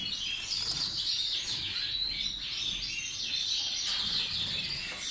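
Yorkshire canaries in a breeding room chirp and trill constantly in a dense, overlapping chorus of high tweets that stays close and busy throughout, with no talking.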